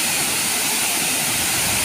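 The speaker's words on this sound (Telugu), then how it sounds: "జలపాతం." A waterfall roars in a steady, unbroken broadband rush, close and loud throughout with no other sounds.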